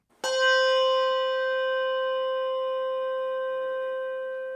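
One Malmark handbell without tang strikes and rings out with a clear, pure pitch and rich overtones, sustaining steadily and fading gradually with no other sound.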